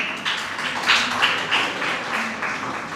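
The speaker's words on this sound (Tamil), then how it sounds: "அந்த அணிக்கு உங்களுடைய கரகோஷம்." Applause from the audience at a Tamil college debate competition greets a team. Dense, even clapping from many hands rolls on steadily at moderate distance with faint surges, and no one speaks.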